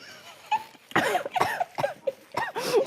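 Several rough coughs and throat sounds in quick succession, close to the listener, irregular in rhythm.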